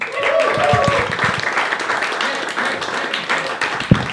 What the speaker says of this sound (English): I hope you give him a big round of applause